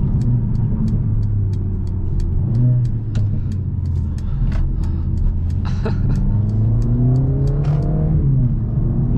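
A 2021 Mercedes-AMG CLA 45 Coupe accelerating hard with a loud, close engine drone that climbs through the gears. A sharp crackle of small pops runs over it, and the pitch swells again near the end.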